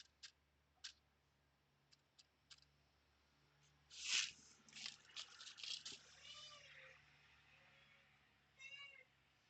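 A female house cat meows indoors at an office desk during seed starting, with a few faint meows, some light clatter, and a louder, drawn-out cry near the middle.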